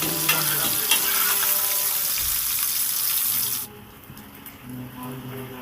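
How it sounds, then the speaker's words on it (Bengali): Bitter gourd pieces frying in oil in a kadai make a loud, dense sizzle that cuts off abruptly partway through, leaving quieter kitchen noise and faint low clatter. "হালকা হালকাই করে এটা ভাজতে হবে"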